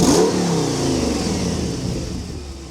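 A V10 car engine revs hard in a garage, one loud rising rev at the start that settles into a steady high whine as it fades.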